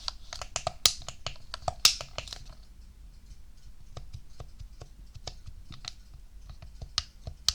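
Gaming controller buttons click and clack in quick irregular bursts, close and crisp against a quiet background, busiest at the start and then sparser.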